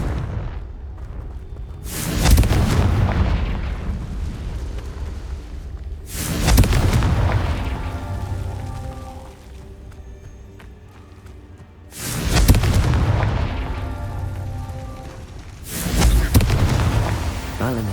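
Four deep, booming Confringo blasting spell explosions burst out in Hogwarts Legacy, each loud and rumbling with a long decaying tail, spaced a few seconds apart.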